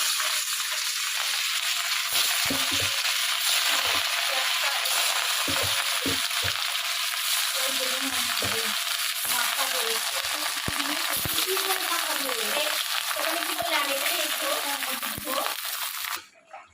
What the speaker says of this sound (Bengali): তেল গরম হয়ে গেছে, এখন আমি মাছটাকে ভেজে নিচ্ছি